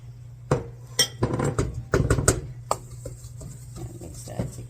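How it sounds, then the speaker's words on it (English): Dry brownie ingredients, including espresso, cayenne, nutmeg and salt, being stirred together in a bowl, with clinking and scraping of a utensil against the bowl in short close bursts, and a steady low hum underneath. "And mix that together."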